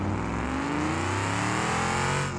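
A car engine in BeamNG.Drive revs hard through the gears, strained and struggling to reach third, with rising harmonic whine and a steady loud drone that drops off abruptly at the end.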